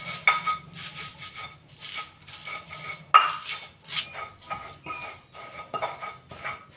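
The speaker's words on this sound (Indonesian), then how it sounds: "Setelah ini saya ulek dulu bumbunya yang udah saya sebutkan tadi." Stone pestle grinding and pounding spice paste in a mortar for an Indonesian tumis dish, with repeated scraping rubs and occasional sharper knocks, close and clear with no talk.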